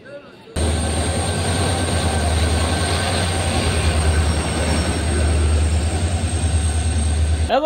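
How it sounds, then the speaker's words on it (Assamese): A train rolls into a station with a loud, close, continuous rumble and rhythmic clatter of wheels on rails, a steady low drone underneath and faint high squeal above, holding throughout. "ট্ৰেইনখনৰ অপেক্ষাত আছোঁ পুৰা ট্ৰেইন আহিব"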